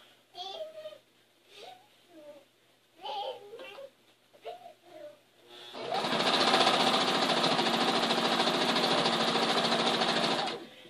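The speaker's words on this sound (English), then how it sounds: "And then we'll sew it on." Someone speaks in short bursts, then a sewing machine joining quilt pieces starts up with a loud, steady, continuous mechanical buzz that runs for about five seconds before stopping.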